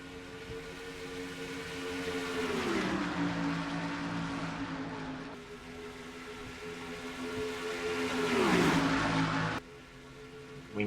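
Stock race cars lapping Charlotte through turns 3 and 4 in a racing video game, a steady droning engine note that shifts pitch as the cars swing through the banking, loud and continuous with no talk.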